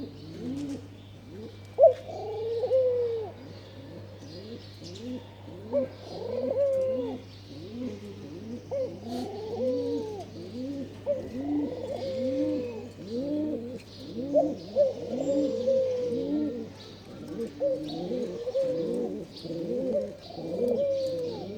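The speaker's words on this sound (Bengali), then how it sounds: "এই যেমন ঘুঘু ডাকে," Doves coo from a house rooftop in a repeated, rhythmic series of soft low calls, fairly close and continuous, with faint chirps from other birds and a low steady hum beneath.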